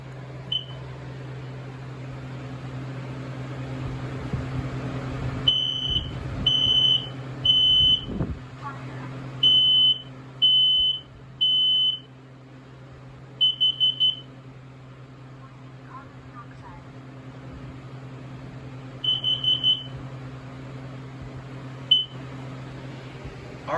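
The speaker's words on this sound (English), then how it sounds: "Here's the Kidda battery-operated smoke and carbon monoxide alarm." A Kidde battery-operated smoke and carbon monoxide alarm sounds in clusters of sharp, piercing beeps, pausing and repeating, with a steady low hum in the background.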